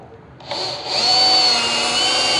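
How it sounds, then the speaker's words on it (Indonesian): A Bosch GSR 1080 Li cordless drill spins up sharply and bores into multiplex plywood, a loud close whine that steps up in pitch and holds steady to the end. "Ini cordless drill Bosch tipe paling murah, tipe paling bawah."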